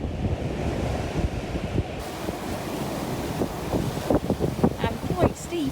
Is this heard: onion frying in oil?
no